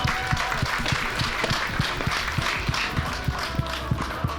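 An audience at the closing ceremony of a gaming event in Verdun applauds the president of the Grand Verdun community as he comes on stage. Crowd clapping is mixed with steady rhythmic thumps like stamping or beating.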